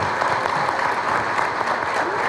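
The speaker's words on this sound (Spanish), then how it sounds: "Un fuerte aplauso para ellos." An audience at a forum on Central American electricity market integration breaks into steady, dense applause, a close continuous clatter of many hands with no pauses.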